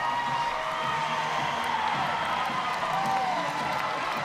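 A large crowd at a professional women's softball game between Portland and a rival cheers and roars steadily, a dense wash of stadium noise with commentators talking over it throughout.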